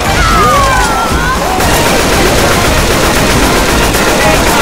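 Shotgun blasts and rapid gunfire in Left 4 Dead 2, a constant loud barrage of shots and crashing game effects with faint voices beneath.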